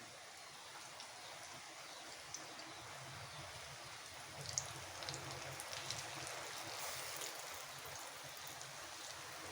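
Steady monsoon rain falls outdoors, a soft continuous patter with faint trickling and a few brief louder drops, heard alone at low volume.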